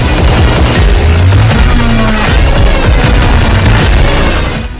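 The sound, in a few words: explosions and gunfire in war footage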